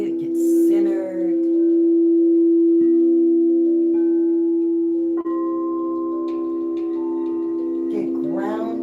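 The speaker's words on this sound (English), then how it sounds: "Settle into the sound of the bowls." Sound bowls ringing with sustained, pure humming tones that swell and overlap, struck again a few times so fresh rings layer over the fading drone, with soft spoken voices under the sound.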